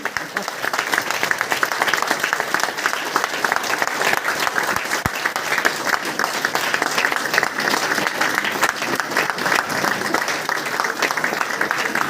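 Loud, continuous applause from a crowd of women at a DXN meeting program in Khalilabad, dense steady clapping throughout with a voice faintly audible underneath.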